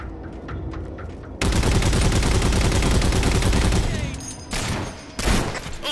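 Heavy gunfire in Halo Spartan Ops from The Master Chief Collection on Xbox One: a dense, loud burst of rapid automatic fire holds for a few seconds, then breaks into shorter, separate volleys.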